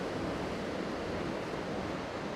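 Roaring Icelandic waterfall heard from up close behind the falling curtain of water, a dense, steady broadband rush with no breaks and no voices.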